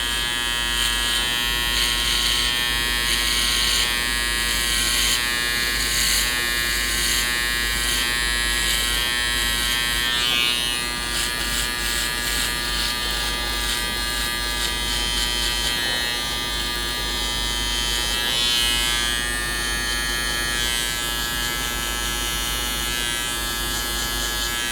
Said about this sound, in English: I'm going to follow that by using the foil shaver and board out this bottom part here